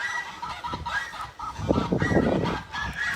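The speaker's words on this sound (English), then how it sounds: "Here's a gorgeous peacock." A peacock on a farm gives loud, honking, nasal calls in repeated bursts, close by with no talking.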